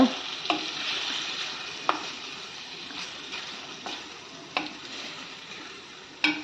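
Paneer, onion and tomato sautéing in a pan for a kathi roll, a steady soft sizzle with a few sharp spatula scrapes and taps spaced through it, close and moderately quiet, no voices.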